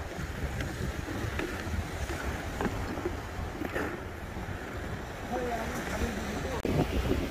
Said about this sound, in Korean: 그런데 바람이 점점 세지고 있습니다.